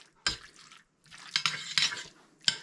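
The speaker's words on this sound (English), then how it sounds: "We'll mix it up good with our hamburger and lay it flat." Spoon mixing mushroom soup into hamburger meat in a dish for tater tot casserole: a run of soft wet stirring and scraping with a few louder clinks of utensil against the pan, close up, no talk.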